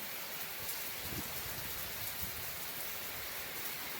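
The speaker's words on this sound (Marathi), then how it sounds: "निघायच्या टायमालाच बघा पाऊस जबरदस्त आला आहे" Torrential monsoon rain in the Konkan near Alibag pours down heavily and continuously, a dense, loud, even hiss of drops beating on surfaces with no other sounds.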